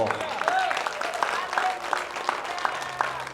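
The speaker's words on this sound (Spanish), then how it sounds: "Vamos a darle un fuerte aplauso." A round of applause from a church congregation during a Spanish-language sermon, moderately loud and steady, with distinct claps standing out and voices calling out over it.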